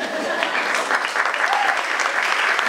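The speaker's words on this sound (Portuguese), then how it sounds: "Obrigado às 7 pessoas que me bateram palmas" Scattered clapping from a small audience of about seven people at a pageant event at Casino Estoril, fairly close and steady throughout.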